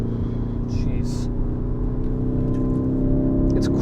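A Lamborghini Urus, a 2.5-ton SUV, pulls hard with a deep, steady engine drone and strong low rumble heard from inside, a few brief higher whooshes or shifts near the start, sustained and loud.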